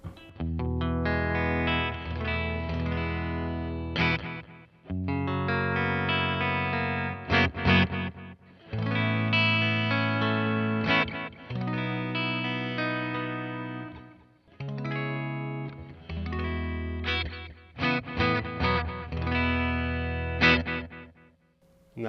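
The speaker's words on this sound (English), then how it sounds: "this is the Ibanez you're hearing right now." Electric guitar played through an Ibanez EM5 Echomachine delay pedal, alongside a second pedal, giving distorted, chorused phrases in several bursts with short pauses between them, alone and fairly loud.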